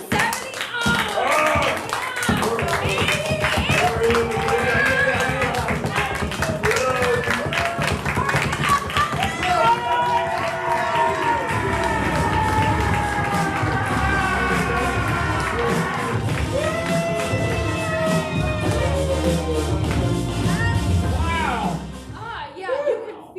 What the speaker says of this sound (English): how hot and sexy this applause has been